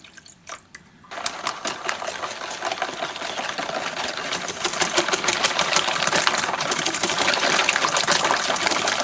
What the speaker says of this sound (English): I'm going to pour 3/4 cup of orange juice.